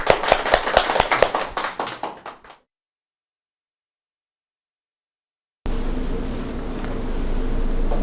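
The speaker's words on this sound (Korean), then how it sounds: "박수" A group bursts into lively applause at the close of a youth traditional archery class, a dense flurry of hand claps lasting a couple of seconds before cutting to silence and then a steady background hiss.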